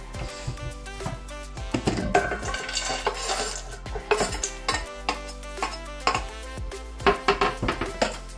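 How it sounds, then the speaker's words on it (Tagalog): Spring roll filling of carrots, onion, celery and turkey mince is tossed in a bowl with a utensil, making irregular clinks, taps and scraping knocks up close, with no talking. "paghalu-haluin na po natin yung mga natin, mga sangkap"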